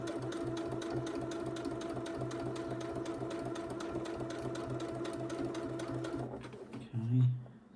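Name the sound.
sewing machine stitching a quilted fabric pot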